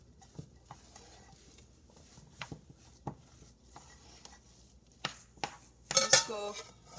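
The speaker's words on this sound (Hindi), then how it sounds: "तो मिक्स करेंगे इलायची को।" A spoon stirs ground cardamom into lapsi in a metal pot, giving sparse, sharp scrapes and clinks against the pot at uneven intervals, then a louder, denser run of metallic knocks near the end.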